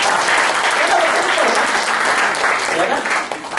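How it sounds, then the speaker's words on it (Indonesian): Church congregation breaks into warm, steady clapping that fills the room, continuing at even strength before tapering slightly at the end, with some voices murmuring underneath. "Kita tepuk tangan dulu dong."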